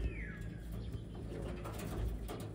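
Blue bar Taiwan racing pigeons coo softly in a loft, low murmuring calls blending into a constant hum of background noise, with a faint chirp early on and no one speaking.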